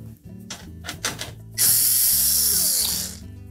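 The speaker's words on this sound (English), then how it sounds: "We'll simply remove the screws that secure the access panel in place." A tool backs out the quarter-inch hex head screws holding the access panel on the back of a GE electric range, first a few ratcheting clicks and then a loud, steady powered whir for about a second and a half, up close.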